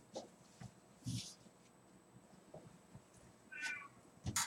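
A house cat indoors meows a few times in short, fairly quiet calls spread across a calm room, with light handling noises between them.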